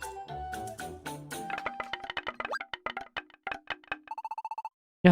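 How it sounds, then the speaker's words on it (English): A school bell chime in Pokémon Super Mystery Dungeon plays as a quick run of bright electronic tones, rising into a rapid ringing pattern of short beeps before a pause and a final thump. "The bell is ringing already?"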